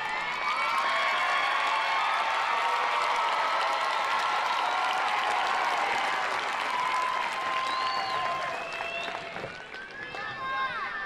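A large graduation commencement audience for Coffee County Schools applauds in a dense, sustained roar of clapping that holds steady throughout and tapers slightly near the end.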